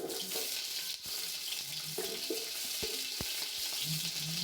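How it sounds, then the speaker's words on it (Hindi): Onions going into hot oil with white cumin produce a steady, close sizzle and hiss, interrupted by a few sharp knocks and scrapes of a spoon against the pan. "अभी ऑयल गर्म हो रहा है तो साथ साथ हम प्याज शामिल कर देते हैं"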